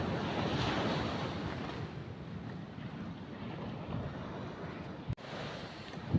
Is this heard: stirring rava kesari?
no